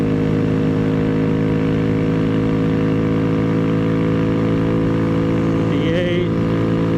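Honda Grom motorcycle (2022+) fitted with an aftermarket intake, its engine droning loud and steady at open throttle around 55, a sustained harmonic hum throughout with a brief pitch shift near the end.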